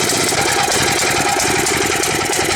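A Kawasaki FA-210A small engine idles steadily without the choke, giving a continuous, close and loud chugging rumble with a fast, slightly uneven pulse.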